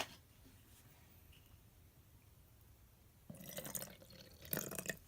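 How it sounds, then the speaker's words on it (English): Water poured into a container of floam slime, starting after a quiet stretch as a sudden splashing, trickling fill with a brief louder gush near the end, close and fairly faint. "Put some water in there."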